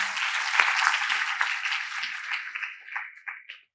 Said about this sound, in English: let's give her a round of applause and welcome her really warmly